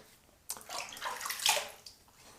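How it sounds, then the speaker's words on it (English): Water splashes as hands cup it and wet a face before a wet shave, giving a few soft, close, irregular splashes and drips at low volume, with no speech. "Wet my face a little bit."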